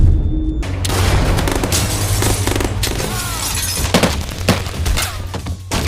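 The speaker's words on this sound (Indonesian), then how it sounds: "Ya, terjadilah baku tembak yang membuat keadaan semakin chaos" A chaotic movie shootout with loud, close gunshots, booming explosions and shattering debris, repeated sharp bangs piling over a continuous roar with no talk.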